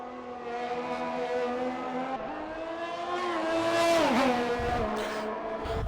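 Ferrari race car on soft tyres at speed through a chicane at the Australia circuit in a sim racing game, its engine a loud continuous whine with downshifts and revs dipping then climbing, heard alone.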